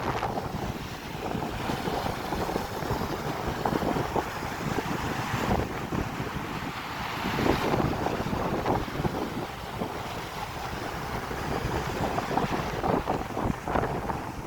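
Speed boat running on the Niagara River, a constant roar of wind buffeting the microphone mixed with rushing water and wash over the whole stretch, with no voices.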